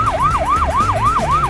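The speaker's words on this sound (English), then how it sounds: "With sirens and flashing lights, the ambulance alerts drivers and pedestrians of its presence." An ambulance siren in a kids' vehicles learning app, a loud, close wailing tone rising and falling in quick, regular sweeps, repeating about five times with no voices.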